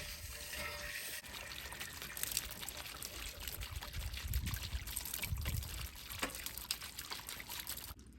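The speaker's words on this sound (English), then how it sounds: "turn the water on and blast water up in there to clean the calcium buildup" Water blasted into an RV water heater tank to flush out calcium buildup, a steady rushing, splashing pour that runs the whole time with surges in the middle, fairly close and with no talking.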